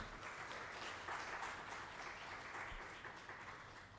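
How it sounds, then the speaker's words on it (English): An audience at a formal ceremony applauds a Joint Secretary of the Department of Justice, quiet and distant-sounding steady clapping with a low background hum running throughout. "let's have a big round of applause for G R Raghavender ji"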